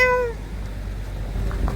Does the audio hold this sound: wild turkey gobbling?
no